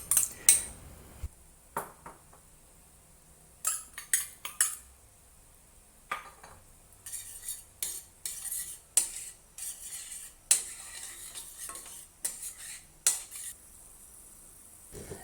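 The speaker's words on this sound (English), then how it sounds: "add the chopped chili into the pan and give it a quick stir" Chopped chili is stirred in a boiling pan, with a utensil repeatedly clinking and scraping against the metal in irregular bursts over a faint bubbling background.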